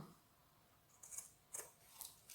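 Scissors snipping a cake-slice shape cut with dies, faint and close, three or four quiet crisp snips at a hesitant rhythm, ending with a brief louder click.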